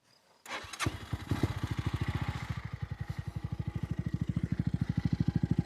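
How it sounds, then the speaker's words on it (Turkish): An RKS M250 motorcycle engine cranks, catches after a brief starter whir and settles into a steady, close, rhythmic idle putter that holds evenly for several seconds. "Motorumuzu çalıştıralım."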